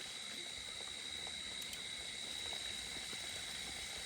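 Water flows steadily down from an overflowing pond, a continuous even rush at constant loudness with no pauses and no voices.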